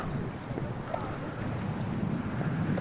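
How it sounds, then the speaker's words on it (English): Constant outdoor wind roars across the microphone in a steady, unbroken rush on a sunny day, with faint low rumble and no clear voices. "I've got just a constant wind right here."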